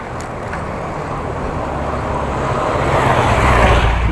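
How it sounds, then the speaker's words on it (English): Motorbikes pass along a residential street beside a long apartment block, a broad rumbling engine roar that swells steadily louder as they approach, heard from a bicycle. "Motorbikes."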